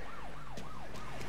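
A police car siren in the Mafia 3 video game wails in a quick repeating rise-and-fall pattern, steady and fairly close, sounding on its own.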